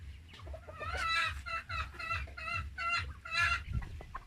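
Australorp chickens on a free-range farm give a steady run of close, repeated clucks and squawks, loud and rhythmic, with no speech over them.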